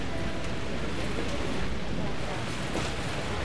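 Steady rain falls throughout, a continuous broadband hiss of drops on surfaces with no distinct breaks, fairly loud and even from start to end.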